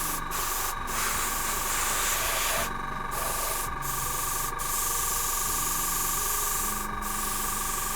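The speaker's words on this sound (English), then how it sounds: "I'm going to try and spray this from a low angle, all from the same viewpoint" An aerosol spray can hisses close up as paint is sprayed onto a miniature's base from a low angle, in several sustained bursts separated by short pauses.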